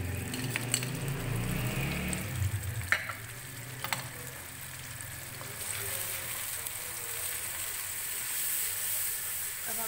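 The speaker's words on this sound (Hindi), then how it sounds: "अब हम इसको इस मसाले को अच्छे से भून लेंगे।" Masala spiced with coriander powder and turmeric, fried in a pan for a beef kofta curry. It gives a continuous close sizzle with a few sharp clinks of stirring early on, then settles into a steady hiss.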